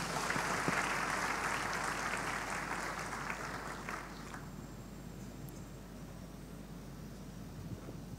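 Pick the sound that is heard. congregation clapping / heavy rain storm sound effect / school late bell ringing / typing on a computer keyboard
congregation clapping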